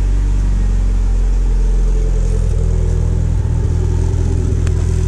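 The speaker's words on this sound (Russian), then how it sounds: "Завелся, как видите, все в порядке. Чуть-чуть пускай поработает." A Ford Escort XR3i cabriolet engine idling just after starting, a steady loud low rumble that runs without a break, close by, with no voices.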